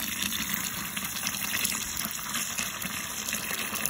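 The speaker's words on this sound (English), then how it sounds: "But this one here, I'm just gonna pour it right in here." Juice for homemade cider pours steadily into a container, a continuous splashing, gushing stream heard close up and alone, with no talking.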